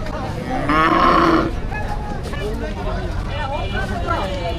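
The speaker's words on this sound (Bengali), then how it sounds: "গরুটা সুন্দর সার গরু পাকড়া সার সাইওয়াল" A Sahiwal cow at a weekly cattle market in Demra Sharulia gives one loud, close moo, surrounded by crowd chatter and people talking throughout.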